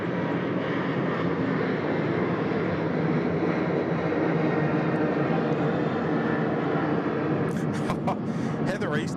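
A Qantas airliner departs from runway 34 left at Sydney Airport, its engines giving a loud, steady jet roar across the whole stretch, with a brief burst of nearby clatter near the end.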